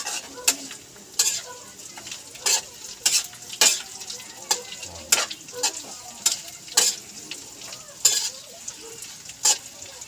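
Garlic and onion sautéing in a pan alongside a little eggplant and chili: a steady soft sizzle punctuated by regular sharp scrapes and clinks of a utensil stirring against the pan, close and clear.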